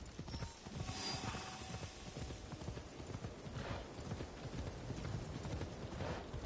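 Horse hooves clip-clop steadily in Assassin's Creed Shadows, a continuous rhythmic trot over a busy, mechanical game soundscape.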